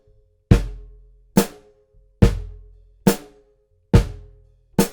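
Alternating single strokes on a drum kit from a Zildjian lesson: six evenly spaced, sharp hits, each a bright crack with a low thump and a short ringing decay, played slowly and alone.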